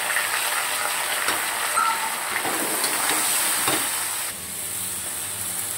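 Potato and pointed gourd fry loudly in hot oil with salt and turmeric, giving a dense, close, continuous sizzle and hiss that eases slightly near the end, with no talking.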